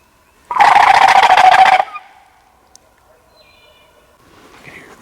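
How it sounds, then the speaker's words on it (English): Domestic farm turkeys gobble once from far off across a road, a dense, loud burst of about a second and a half, then quiet outdoor ambience with faint distant calls. "Some people's farm turkeys over there."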